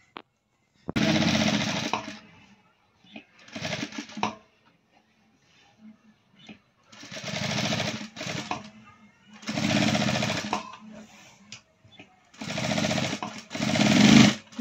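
A sewing machine stitches a chudidar top, running in several bursts of a few seconds each with short pauses between them, loud and close with a steady whirring rattle.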